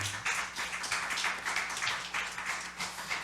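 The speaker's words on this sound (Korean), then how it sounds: "우리 다시 한번 하나님께 영광의 박수 올려드리겠습니다" Fairly faint clapping rises and falls in a series of rhythmic bursts as a Korean church congregation applauds in praise during a Sunday worship service.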